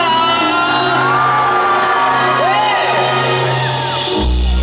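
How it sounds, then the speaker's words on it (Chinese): A large outdoor concert crowd at a tourism festival in Hualien screams and cheers loudly and continuously, with whoops and shouts rising over the din before it cuts off. "全场来点尖叫声一下吧！"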